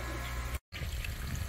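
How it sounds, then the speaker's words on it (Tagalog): Water draining from a catfish pond during harvest, a steady close rush and trickle of flowing water with a very brief dropout in the middle. "I-drain lang natin tong tubig"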